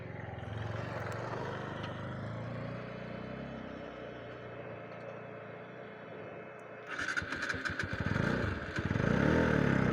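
A motorcycle engine rumbles on an off-road ride, a low droning hum that grows louder and rougher near the end as the bike revs and clatters over rough ground.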